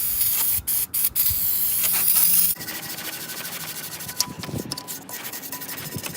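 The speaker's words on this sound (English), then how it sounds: "I'm just gonna again put some brake cleaner and just scrub it." Brake cleaner hisses from a spray can onto a Mazda Miata valve cover in a steady loud burst, then gives way to close, scratchy scrubbing with small metallic clicks and knocks.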